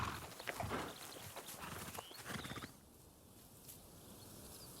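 Hooves clip-clop in a quick, uneven patter for a few seconds, then fade to a soft, steady outdoor hiss.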